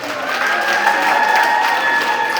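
Audience at a village teachers' day celebration clapping together, a dense, steady burst of applause for a couple of seconds, fairly loud and close.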